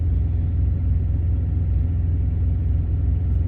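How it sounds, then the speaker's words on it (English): Trucks idling and rolling through a busy freight truck yard, a steady low diesel rumble with a mild engine throb, continuous and moderately close, no voices. "A lot of trucks coming in and out of here"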